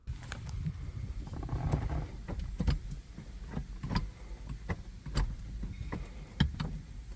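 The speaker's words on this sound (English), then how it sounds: "I'd like to take a second and just appreciate the sound of a gated Ferrari shifter" The gated six-speed manual shifter of an OEM Ferrari F430 Spider is moved through the gate, giving a series of sharp metallic clicks and clacks spaced irregularly, close up and fairly quiet, with no talking.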